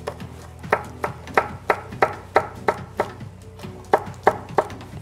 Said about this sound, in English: I'm just gonna finely slice another long red chili